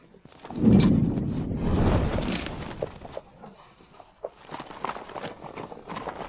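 A horse's hooves clip-clop as it is ridden, a burst of heavy thuds up close at first, then lighter, scattered hoofbeats fading into the background.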